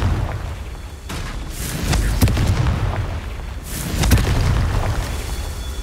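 Confringo spell explosions burst in Hogwarts Legacy, two deep booming blasts a couple of seconds apart, each followed by crackling debris over a rumbling background, with no talking.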